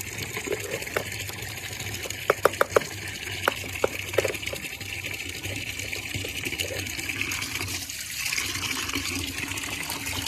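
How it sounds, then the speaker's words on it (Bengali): Water runs steadily into a bucket as a continuous gushing fill, with a few sharp taps and clanks over the flow. "বালতিতে আমি জল ভরতে দিলাম"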